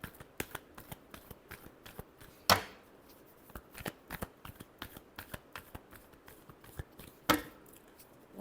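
Tarot cards are shuffled in a steady run of crisp riffling taps close up, with two sharper snaps of the deck partway through and near the end, and no voices.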